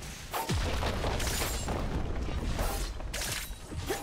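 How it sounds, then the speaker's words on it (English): A deep, rumbling boom rolls out as a turret is destroyed in League of Legends, sustained and fairly loud amid game effects. "Blue team's turret has been destroyed."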